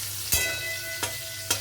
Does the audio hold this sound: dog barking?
no